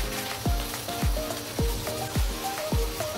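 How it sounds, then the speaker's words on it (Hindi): Steamed whole chicken cut into pieces for Lahori chargha frying, a sizzle broken by about six regular dull knocks and thuds, likely a utensil striking the pan, close up with no voices. "चिकन हमारा बिल्कुल स्टीम हो चुका है, अभी इसको हम फ्राई करेंगे।"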